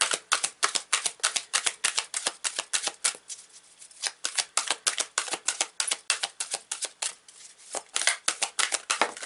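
Tarot cards are riffled and shuffled in rapid bursts of crisp, papery flutters, dozens of quick snaps in clusters with brief pauses between, close and clear with no talking.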